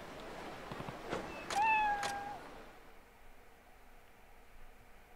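In the video game Ryu ga Gotoku Ishin a cat gives a single clear meow, close and fairly loud, amid a few soft taps, then the scene settles into a faint hiss.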